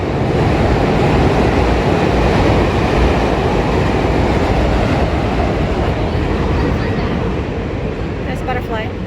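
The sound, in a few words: train passing behind a house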